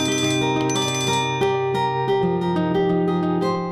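A cell phone rings with a loud, bright electronic melody of repeated bell-like tones, played steadily and close by.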